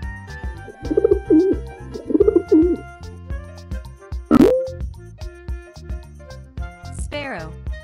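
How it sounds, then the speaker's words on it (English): Pigeon cooing in a few soft, rolling bursts over a busy backing of music and sound effects, with a spoken voice also present. "Pigeon."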